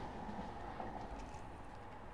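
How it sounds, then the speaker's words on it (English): A train bound for Altrincham rolls past with a faint, steady rumble of wheels and carriages, no voices. "Train was going to Altrincham"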